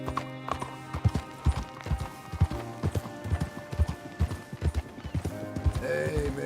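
Horse hooves clip-clop at a brisk, rhythmic walk in the video game Red Dead Redemption 2, close and distinct, with a brief snort or whinny and faint background game ambience.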